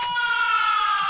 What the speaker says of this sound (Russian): Жека, сирена